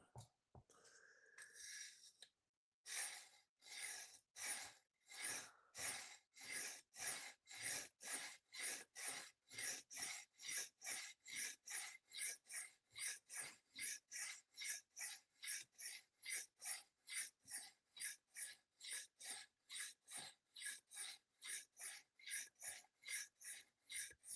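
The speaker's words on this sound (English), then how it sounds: "I am sharpening one of my fixed blades." Fixed-blade knife sharpened in a workshop: rhythmic, raspy strokes of the blade on a stone or file, close and bright, repeating steadily about twice a second after a brief opening scrape and pause.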